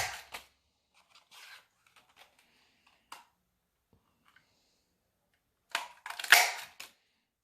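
A border maker punch cuts through paper in a craft setting, a few sharp crisp clicks and snaps separated by quiet gaps, with a louder burst of punching and paper rustle near the end.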